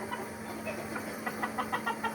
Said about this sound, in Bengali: চলো ওগুলো যে পাজি মোরগগুলো দেখে আসে, চলো